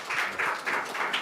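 Audience applause for Professor Sun Yang-kook after his lecture on next-generation secondary batteries and electric vehicles at a leadership forum, a steady, moderately faint patter of clapping with a few swelling bursts and no talk.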